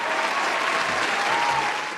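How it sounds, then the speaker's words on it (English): An audience claps in a loud, sustained round of applause, a dense and continuous roar of many hands from start to finish. "Then give a round of applause."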